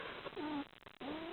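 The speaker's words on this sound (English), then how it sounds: "No, go away, cat." A house cat meows close by, giving two drawn-out, wavering cries with a short gap between them.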